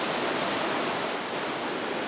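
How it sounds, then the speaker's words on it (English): Lower Undine Falls on Lava Creek in Yellowstone pours as a steady, dense roar of rushing water, loud and unbroken, with no voices over it. "I think I see a sizable waterfall."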